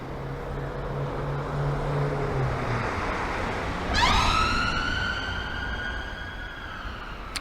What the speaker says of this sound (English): I'm just going to wait for this ambulance.